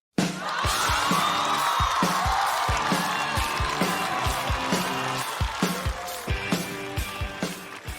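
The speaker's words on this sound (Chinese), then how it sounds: "掌声有请戴维" A stand-up comedy audience claps rhythmically and cheers with whoops to welcome comedian Dai Wei onto the stage, loud and sustained over bright stage music.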